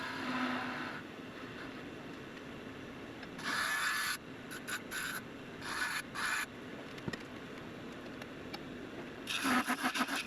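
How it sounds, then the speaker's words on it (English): Wood spins on a lathe while a tool shapes a small single-piece yo-yo. The cutting comes as quiet rubbing hiss in several short bursts of scraping against a low background hum. "But I will get them very, very close on the lathe."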